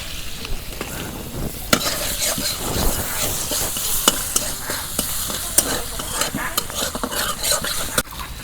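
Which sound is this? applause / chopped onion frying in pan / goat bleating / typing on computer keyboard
chopped onion frying in pan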